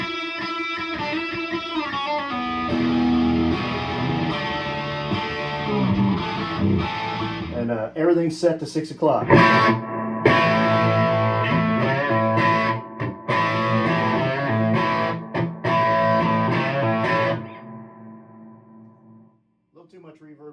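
An electric guitar plays through a faulty Epiphone Valve Senior tube amp with its reverb turned well up, giving ringing chords and single notes with long washy tails and occasional gritty, distorted bursts; someone speaks briefly at the start.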